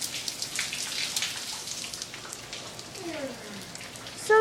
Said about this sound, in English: but still raining